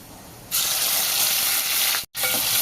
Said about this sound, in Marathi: तर टोमॅटो आपण आता एक मिनिटभर परतून घेऊया